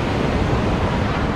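Brief steady wash of ocean surf on Copacabana beach, a loud, even broadband roar with no distinct individual breakers and no talking.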